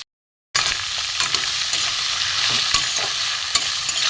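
Green chillies frying in a pan with ilish fish heads and ash gourd, stirred with a utensil, a loud steady sizzle broken by soft scraping knocks of the stirring, close up.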